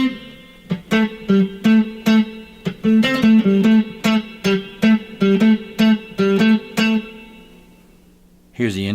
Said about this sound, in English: we have a second guitar that plays some picking.